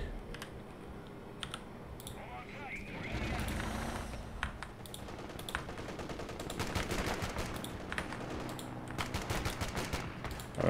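Machine gun bunker firing in the Company of Heroes 3 battlefield, dense rapid bursts amid explosions and rumbling battle noise, growing busier through the second half with sharp repeated cracks.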